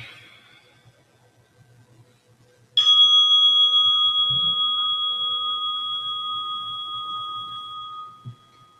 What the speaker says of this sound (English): Let this sound of the bell, this chime, create an automatic response to relaxation.